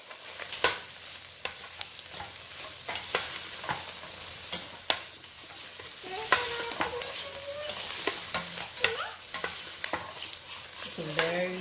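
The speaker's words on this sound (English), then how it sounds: "Just saute that with the vegetable." Cooked smoked beef sausage sautés with vegetables in a pot for keto sausage kale soup, a soft steady sizzle broken by frequent clinking and scraping stirs of a utensil against the pot.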